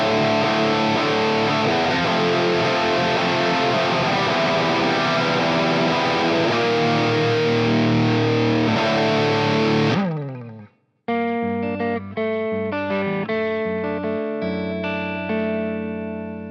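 A PRS Mark Tremonti electric guitar, Les Paul style, is played through its bridge pickup with heavy distortion: a thick chord rings out for about ten seconds, cuts off briefly, then a punchy riff of distorted picked notes follows.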